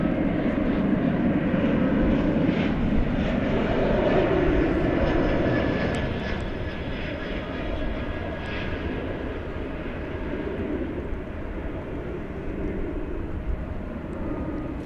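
An American Airlines Airbus A321 jet arriving from Phoenix at DFW Airport at night gives a loud, steady broadband engine roar that swells slightly and then eases as it passes at moderate distance.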